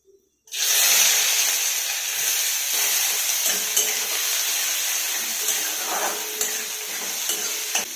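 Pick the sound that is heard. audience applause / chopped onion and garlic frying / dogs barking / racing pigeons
chopped onion and garlic frying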